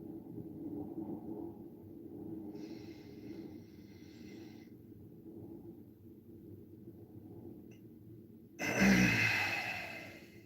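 A slow, audible exhale during a breathing meditation comes as one breathy rush near the end, following a quiet stretch with a low murmur.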